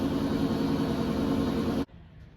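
A 2008 Dodge Charger runs on its stock exhaust, a steady, close engine drone with a broad hum that cuts off abruptly near the end, leaving quiet.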